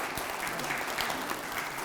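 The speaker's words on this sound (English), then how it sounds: "let's hear a round of applause for these guys" Steady, dense audience applause fills a candidates night meeting, an even wash of many hands clapping together at moderate volume with no voices over it.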